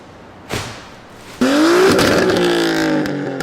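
A car engine revs hard, rising then holding at high pitch with a brief thump before it, loud and close, no talking.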